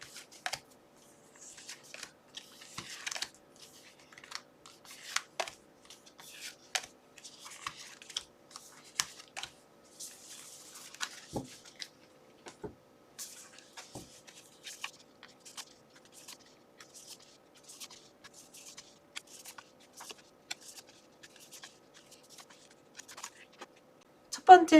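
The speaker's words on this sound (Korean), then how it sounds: "카드 뽑아볼게요." Tarot cards are shuffled and drawn by hand, a run of soft close papery flicks, slides and taps with short pauses between them, quiet and intimate.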